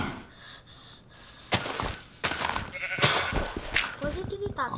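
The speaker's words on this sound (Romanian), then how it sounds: "Iii, încă oaie." Sheep bleat in the Minecraft video game, with several nasal, wavering calls coming close together and a person talking between them.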